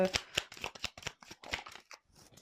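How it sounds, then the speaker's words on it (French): Tarot cards shuffled and drawn from a deck, giving a close run of crisp riffling flutters and soft card slaps in quick irregular bursts, with no voices. "Allez, je prends une dernière carte"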